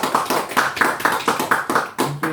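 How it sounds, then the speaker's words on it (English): Audience applause at a live magic show at the Edinburgh Fringe 2025: roughly ten crisp, distinct claps in a steady, even rhythm, close and clear with no talk over them. "You'll be greeted by a round of applause from everyone else."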